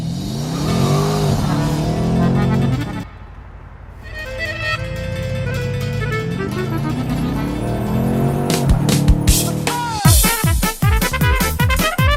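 Mercedes C63 AMG V8 cabriolet revs and accelerates hard, the engine note rising and falling through gears with a brief lift-off, loud and close, ending in sharp repeated throttle blips.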